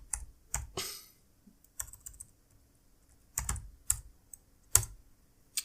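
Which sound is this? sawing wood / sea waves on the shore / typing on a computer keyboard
typing on a computer keyboard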